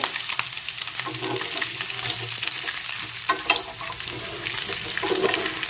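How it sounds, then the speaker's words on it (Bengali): Potato pieces frying in oil in a kadai while being stirred and turned, a dense continuous sizzle mixed with scraping and clattering stirs close up. "আলুটা একটু নাড়াচাড়া করে ভেজে নিয়েছি"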